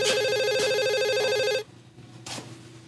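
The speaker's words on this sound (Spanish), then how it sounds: "Giro, contesta el teléfono." A telephone rings loudly with a bright electronic warble, then cuts off abruptly into a quieter room with faint background sounds.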